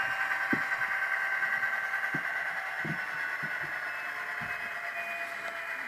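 Kato GP35 model locomotive with Tsunami sound decoder playing a 567 turbo diesel engine, a steady whining turbo drone with faint periodic thumps, heard alone at moderate level.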